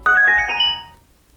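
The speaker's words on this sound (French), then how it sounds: "Sélectionnez-la et un bruit justifiant l'appareillage retentira." A short electronic chime from a portable Bluetooth speaker confirms pairing, a bright tonal ring of about a second that decays quickly into silence, loud and alone.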